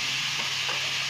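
Chopped tomatoes hit a hot frying pan while making baingan bharta, giving a brief, steady, close-up sizzle with light stirring scrapes and no talk.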